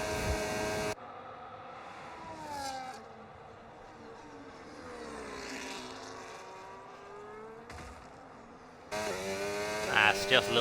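In a racing video game at the Miami Grand Prix, a McLaren race car engine screams down a straight, rising in pitch as it accelerates and fading under commentary, with louder bursts at the start and end.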